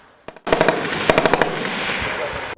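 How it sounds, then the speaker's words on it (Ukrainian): Kalashnikov assault rifle fired at a military training range in the Lviv region, a short burst of sharp shots followed by a rapid string of loud close-range cracks with echoing tail. "Заокеанський гість скористався нагодою показати свою військову вправність, взявши до рук автомат Калашникова."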